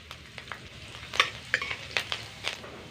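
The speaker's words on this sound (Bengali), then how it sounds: "তেলটা গরম হয়ে গেছে, এবার এর মধ্যে দিয়ে দিচ্ছি কিছুটা কুচনো কাঁচা লঙ্কা।" Chopped green chillies hit hot oil in a wok and give off quiet, scattered crackles and spits, with a few sharper pops over a soft background.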